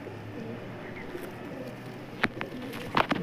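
Kalanka pigeons, including a black-eyed hen, coo softly in a loft, low and steady, with a few sharper bird calls and flutters near the end.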